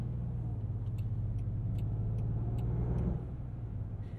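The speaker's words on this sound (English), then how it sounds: "Oh, a little bit of burble there from the exhaust." A 2022 Land Rover Defender 90 with a V8 gives a deep, steady exhaust burble, a close, continuous low rumble that swells slightly and eases off near the end.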